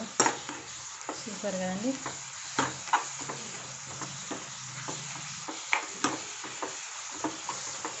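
A ladle stirs spinach dal cooking in a pan with a soft sizzle, scraping and clinking against the pot again and again, while a voice speaks briefly.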